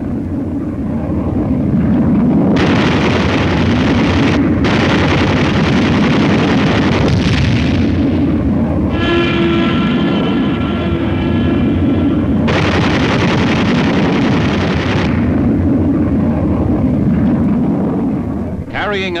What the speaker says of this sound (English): Carrying up to 32 5-inch rockets, they wreaked havoc with enemy ground forces.